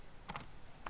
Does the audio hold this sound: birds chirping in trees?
no